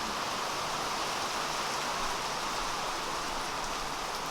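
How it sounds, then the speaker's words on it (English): Heavy rain pours down in a dense, constant hiss, loud and unbroken throughout with no other sounds standing out. "it's super rare to be able to actually go and see the rain while it's raining, like heavily"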